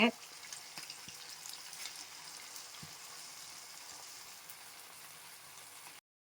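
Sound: bonda frying in hot oil

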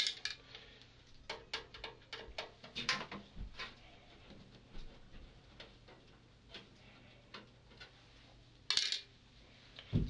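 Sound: removing screws from PC CD-ROM drives

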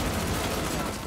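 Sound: gunfire in a film

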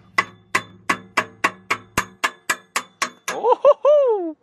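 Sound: mallet hitting a wrench on exhaust bolt

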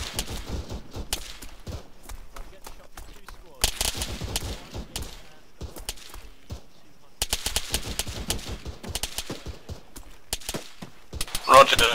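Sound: gunfire in the video game Arma 3

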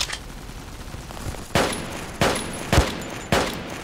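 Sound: gunfire in online FPS video game Army Troop

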